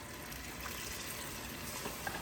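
Water being poured into a hot pot makes a steady, continuous splashing stream that lasts the whole moment at moderate volume.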